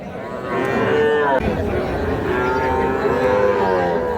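Calves mooing repeatedly in a busy rural cattle market at Ambari haat in Dinajpur, Bangladesh, loud nearby bellows rising and falling over a steady murmur of crowd chatter.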